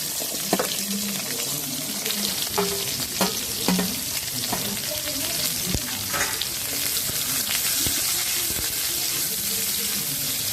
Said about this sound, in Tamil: இப்போ இதில் வெங்காயத்தை போட்டு வதக்கணும்.